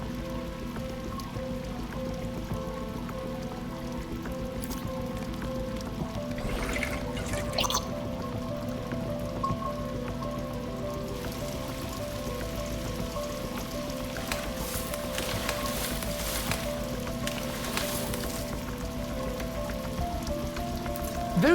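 Water dripping and pouring from a bullet-riddled aquarium in the game Bright Paw, a steady patter of drips over a soft background hum.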